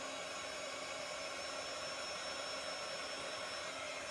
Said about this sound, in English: Can you use a hair dryer? Yeah, absolutely, use a hair dryer.